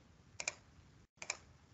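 Keys on a computer keyboard are tapped in two quick pairs of light, close clicks, separated by a brief pause against a quiet room background.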